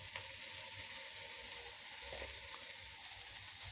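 Flattened rice dropped into a hot pan of sautéed onions for aval upma, giving a soft, even sizzle with faint hiss throughout and no voices.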